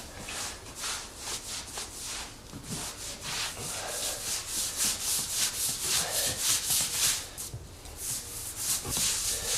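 A damp sponge held flat is wiped back and forth across the grout joints of a tiled floor, giving a rhythmic series of close scrubbing and rubbing strokes with no speech.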